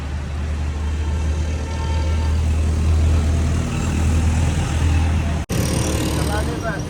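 A Tata car on a test drive after its first paid service at 7,500 km, a steady low engine and road rumble heard from inside the cabin, fairly loud, with a sudden cut and brighter noise near the end.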